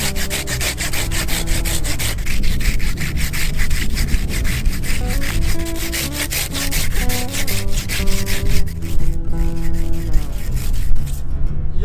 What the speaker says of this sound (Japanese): ヒレから落としていきますね。 ノコギリで落としていきます。